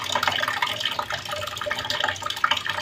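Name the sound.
collecting tap water into containers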